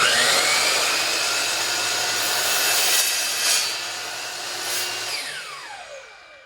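A power saw cuts a red oak board into sections, with a loud, sustained high whine that rises briefly twice as the blade bites and then spins down toward the end.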